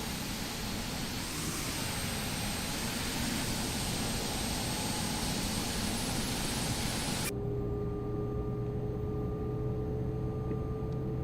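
An Embraer E190 jet engine spools up in the X-Plane 12 simulator, a loud, steady broadband roar with a high whine that cuts off abruptly partway through, leaving a quieter hum with steady tones.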